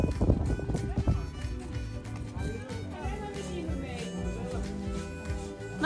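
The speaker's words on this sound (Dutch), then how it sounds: "De ezels zijn onderweg naar de hoefsmid." Donkeys on their way to the farrier clop along on hard ground, a repeated irregular hoof rhythm close by with voices under it.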